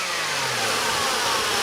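A Holden VS Ute engine runs to warm up, a steady close mid-pitched hum with a slight rise in revs partway through, continuous with no voices.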